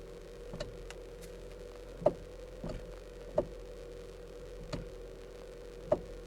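A worn steering column coupler on a 2013 Kia Soul knocking while steering, faint irregular clicks and ticks repeating every second or so over a low idle hum, no talk.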